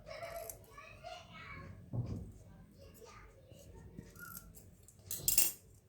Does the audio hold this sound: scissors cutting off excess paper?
yes